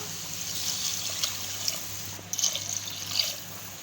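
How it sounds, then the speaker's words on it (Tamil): Water trickles and splashes steadily into a cooking pot, two cups added with moong dal, a soft continuous pour with a few brighter drips near the end. "இப்போ இதில் நம்ம ரெண்டு கப் தண்ணி சேர்த்துக்கலாம்"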